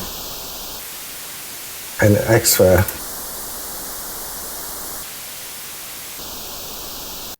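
Steady broadband hiss of white noise fills the clip, briefly interrupted by a short spoken phrase in the middle.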